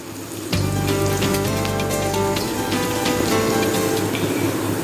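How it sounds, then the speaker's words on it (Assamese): Chopped onions with two green chillies fry in hot oil until they turn golden. The sizzle starts suddenly and then stays as a steady, close, crackling hiss, with no talking. "পিঁয়াজটো ৰঙচুৱা হোৱালৈকে ভাজিব।"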